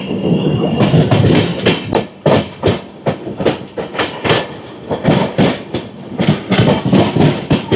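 Hirakhand Express rolling into Khurda Road Junction station, heard from on board: loud, close rhythmic clatter of wheels over rail joints with rumbling carriages, a steady run of beats continuing throughout.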